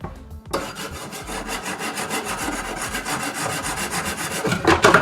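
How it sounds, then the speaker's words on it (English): An 8-inch MOSFiATA carbon chef knife is drawn through a knife sharpener in rapid rhythmic rasping strokes, loud and close, after a brief quiet start. "let's see if we can sharpen this one. I'm assuming we're just doing this. And then this should just sharpen it."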